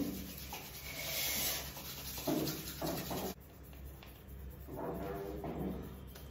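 Veet wax strip being rubbed on skin of the legs: repeated close, dry rubbing and scraping strokes in uneven bursts, fairly quiet, with a brief pause and shift partway through and no talking.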